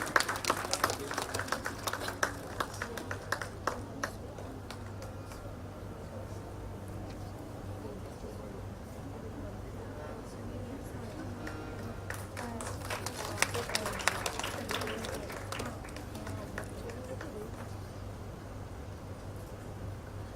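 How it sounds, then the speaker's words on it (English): Audience applause at a Sakuraa India Foundation event, a broad wash of clapping from a crowd that swells again midway, with a steady low hum and some chatter underneath. "Please give a big round of applause."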